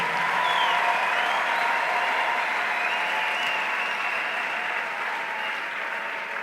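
A church congregation breaks into sustained applause acclaiming the king of kings, a steady, full wash of clapping hands that keeps going without letup from start to finish.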